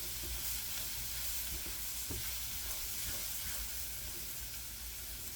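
Onions frying in a pan, a faint, steady sizzle with soft crackling throughout and no talk.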